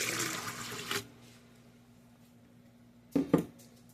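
Warm water poured for Italian herb bread dough, a short burst of running liquid at the start, then quiet, followed by a brief second splash near the end.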